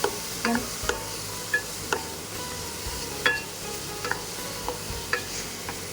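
Onion and tomato dry-roast in a pan without oil while a spatula stirs, producing a soft steady hiss broken by sharp scrapes and taps against the pan every second or so, close by and without speech.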